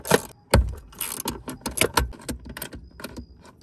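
Ratcheting 13 mm tool loosening the battery bracket screws on a Mercedes ML350, a close burst of quick metallic clicks and clunks in uneven rhythm.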